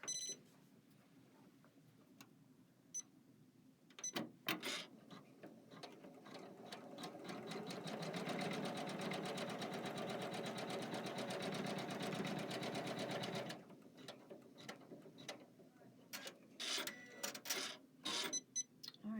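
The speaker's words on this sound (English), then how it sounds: "We're going to stitch a placement line here along the bottom" A Kimberbell embroidery machine stitches a placement line along the bottom of a Garden Guild embroidery-by-number block, a steady mechanical whirring run of about six seconds with brief clicks and handling noises before and after.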